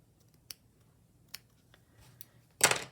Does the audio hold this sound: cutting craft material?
yes